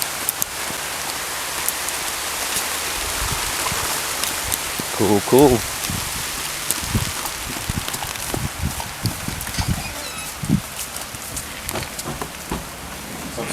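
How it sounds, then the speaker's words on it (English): Steady rain patters on surfaces throughout, with a few louder knocks and short bursts of voices over the wash. "The rain, baby."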